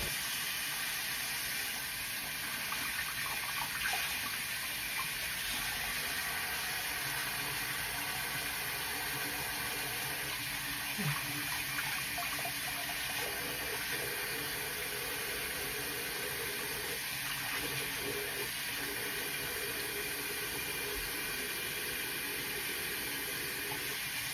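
Tap water runs steadily at a bathroom sink during face washing, a continuous broadband hiss that stays at a fairly even level throughout with faint intermittent splashing.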